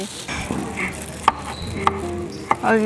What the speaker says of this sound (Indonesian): Kita mungkin bawang merah aja dulu. Bawang merah.